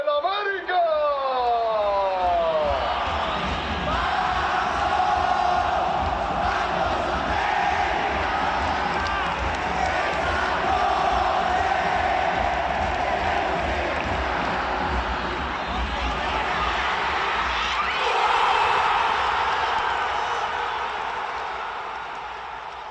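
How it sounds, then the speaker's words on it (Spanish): A stadium crowd gives an ovation for Club América, the Mexican football club known as the Águilas, in a sustained, loud roar of cheering and shouting voices that swells again near the end before easing off. "que se escuche la ovación a nuestras poderosas Águilas del América."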